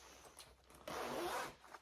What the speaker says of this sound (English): I'll start unzipping the zipper and getting the other panel out of the way